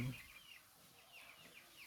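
An egg-laying hen clucks close by in a short series of soft, irregular calls, loudest at the start and fading into quieter bursts.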